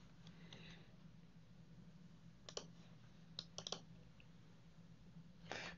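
A computer mouse gives a handful of quiet, sharp clicks, some single and one quick pair, spaced apart against a soft steady hum in an otherwise still room.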